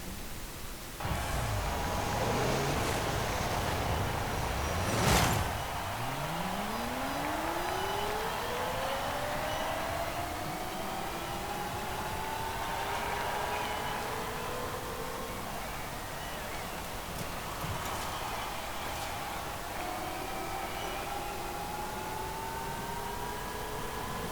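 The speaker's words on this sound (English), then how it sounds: "it makes all the usual kind of electric car noises, a lot of whooshing and such" Hyundai N Vision 74 electric car in Forza Horizon 5 whooshing with a steady hiss and rising, sweeping electric whine tones, loud and continuous, with pitch climbing and dropping as the car accelerates and shifts.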